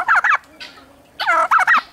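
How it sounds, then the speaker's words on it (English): Farm turkeys gobble loudly and close by, two bursts of rapid warbling calls separated by a short pause. "Here's all our turkeys."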